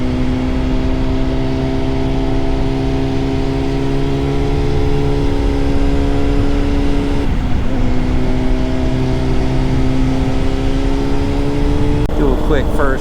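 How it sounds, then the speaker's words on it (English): A Honda CBR 600RR motorcycle engine holds a steady, loud drone with clear harmonic tones, shifting pitch briefly around the middle and rising again near the end, running continuously throughout. "Do a quick first and second gear takeoff here."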